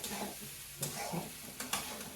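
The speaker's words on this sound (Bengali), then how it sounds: "কালকে কিছু ভাত ছিল, সেই ভাতগুলো এই যে ভাজা করে দিলাম" Leftover rice fried with egg and carrot is stirred in a pan, with soft, repeated scraping strokes over a faint, steady sizzle, quiet and close.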